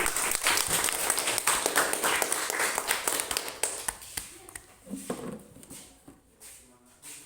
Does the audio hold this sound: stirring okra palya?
no